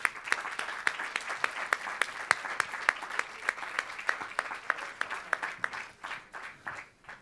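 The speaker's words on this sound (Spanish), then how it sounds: "Un aplaudiment," Audience applause at a pastry-making session event in Catalonia, a steady round of clapping from a crowd that swells, holds, then tapers off near the end, with sharp individual claps standing out.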